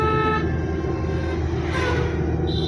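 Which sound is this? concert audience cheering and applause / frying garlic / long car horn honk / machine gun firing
long car horn honk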